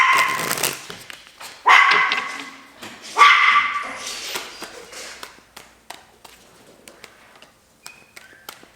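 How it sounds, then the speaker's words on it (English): A dog moves around indoors with scattered bursts of yips and whimpers early on, then light clicking footfalls and small knocks that fade into quieter, intermittent taps. "you might hear the dog running around"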